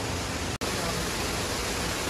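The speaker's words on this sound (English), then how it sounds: "Look at the waterfall." A waterfall roars as a dense, continuous broadband rush, loud and steady, with a brief drop-out partway through.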